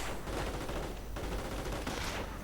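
Rapid bursts of small-arms and machine-gun fire from Panzergrenadiers and Rangers in a Company of Heroes battle, dense overlapping volleys that run continuously and loudly throughout, with no voices.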